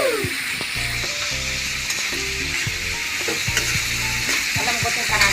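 Bean sprouts and vegetables for lumpia sizzle loudly in a hot pan while being stirred, with scraping and clinking of a utensil against the pan over a continuous close frying hiss.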